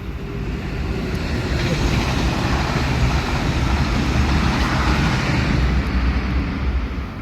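Steady road traffic rumbles beside a bus stop near a railway station in Sweden, a continuous broadband roar of passing vehicles at moderate distance with no talk.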